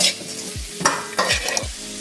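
Onions sauté in a hot pan while a utensil stirs them, giving a steady sizzle broken by several distinct scraping strokes against the pan, close and clear with no talking.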